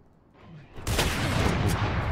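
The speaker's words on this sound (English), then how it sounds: "your cannons going off in the distance" Distant gunfire in the Valorant shooter game, a sustained rumbling volley that rises after a quiet start and holds steady, with no voices over it.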